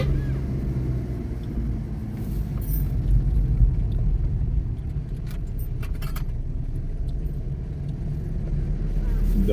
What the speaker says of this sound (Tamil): இந்த ரோட்டில் செகண்ட் கியர் அங்கே போட்டோம் தான், செகண்ட் கியர்லேயே தான் போயிட்டுருக்குங்க.